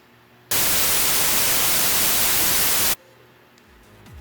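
A white noise riser synth effect built in FL Studio: a loud, flat wall of hiss that cuts in abruptly, holds steady for over two seconds, then stops dead, leaving faint background hum.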